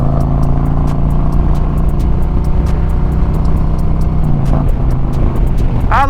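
A 2024 Harley-Davidson CVO 25th anniversary motorcycle on a test ride, a loud, steady close engine drone with a constant rumble, the note shifting slightly near the end, and no speech.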